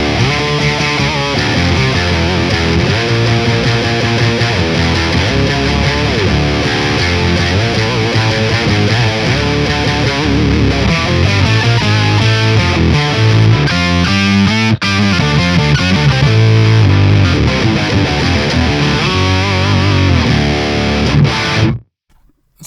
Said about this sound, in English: And we have a brown sugar, which is a distortion pedal if I'm correct.